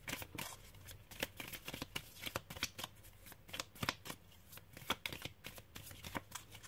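A deck of cards is shuffled by hand before a single card is drawn, giving rapid, close riffling snaps in uneven bursts throughout.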